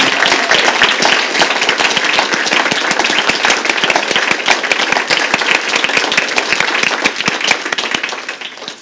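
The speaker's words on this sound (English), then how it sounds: "Let's give our presenters one last big round of applause" A closing round of applause for presenters at a Talk20 event in a library, crisp and vigorous with many distinct claps, loud and continuous before tapering slightly at the end.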